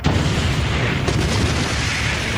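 The Beirut warehouse explosion in Lebanon, a blast at a warehouse holding 2,700 tons of material: a dense, continuous roaring rumble with a brief sharper burst, loud and distant-sounding, with no voices.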